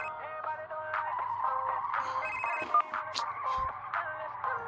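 An incoming call sets off a phone's melodic ringtone, a chain of bright electronic tones that repeats at a moderate, fairly faint level with no voices.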